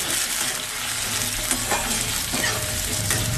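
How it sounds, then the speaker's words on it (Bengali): Potato pieces seasoned with salt and turmeric fry in a pan, a steady close sizzle with occasional stirring scrapes and clinks, no talking. "আলুটা কিছুক্ষণ ভেজে নেব।"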